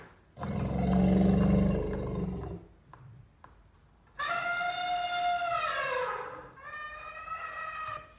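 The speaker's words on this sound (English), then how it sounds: "I just liked how there were elephant sounds at a lot of different frequencies" Recorded elephant calls ranging from deep low rumbling roars to high trumpeting blasts, several loud separate bursts with short gaps between them.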